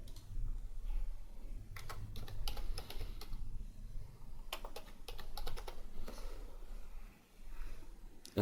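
Quiet, quick keystrokes on a computer keyboard as a password is entered during a Linux Mint install, coming in short bursts of clicks separated by brief pauses.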